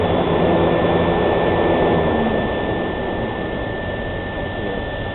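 A Lanair MX 250 heater running with its fan motor shut off gives a steady, loud broadband roar with a constant tone, easing slightly toward the end, alone without talk.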